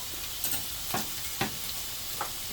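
Tomato sauce with parsley and a ladle of water being stirred in a pan for chicken meatballs, giving a few soft, spaced scraping strokes over a steady low sizzle, close and fairly quiet.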